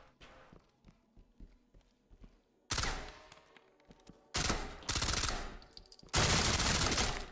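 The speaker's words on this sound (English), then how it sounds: "Okay, SMG you want full auto in this game." Full-auto SMG fire in a video game comes in three loud rattling bursts of growing length after a quieter stretch of soft footsteps and light thuds.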